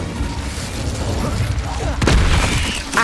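The Incendio fire spell is cast in the Hogwarts Legacy video game, producing rumbling bursts and a louder booming impact partway through, over a busy backdrop of game sound.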